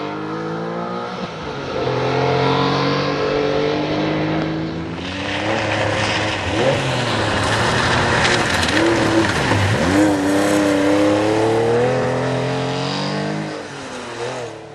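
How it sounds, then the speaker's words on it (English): A big Volvo rally car drives a rally stage, its engine note rising and falling through gear changes as it approaches, roars loudly past and pulls away, with gravel and tyre noise throughout. "the big Volvo making light work of the conditions, and Graham Waite and Jill Cotton get themse"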